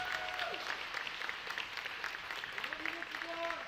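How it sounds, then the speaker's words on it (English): Audience applause at a hooding ceremony, steady dense clapping from a crowd with some voices heard over it throughout. "If we could all give a big round of applause to Ms. DeVore."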